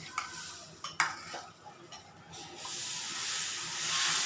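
Water sprinkled onto a hot, oiled dosa pan breaks into a broad sizzling hiss after a few sharp taps and clatters, the steamy sizzle swelling and holding steadily near and clear, with no speech.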